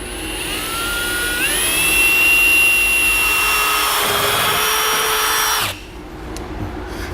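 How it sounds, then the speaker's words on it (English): A power drill with a pilot bit boring through a metal bumper core on a 2015 Chevrolet, loud and close, a whining motor that rises in pitch and runs steadily for about five seconds before stopping abruptly. "drill those out using a pilot bit, going all the way through this bumper core."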